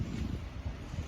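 Low, steady rumble of wind buffeting the microphone, continuous and blustery with no other sounds.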